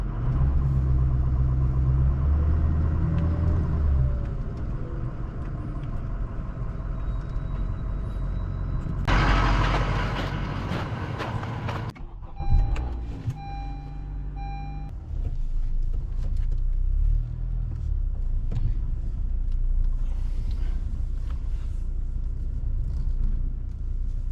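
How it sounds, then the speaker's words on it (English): Engine of a 2011 Chevrolet Silverado pickup with a rusted fuel pump idles and rumbles steadily on snowy, soft ground as it is eased forward, with a brief louder surge midway and no talk. "Just going to pull this forward a little bit so I can move my wife's car"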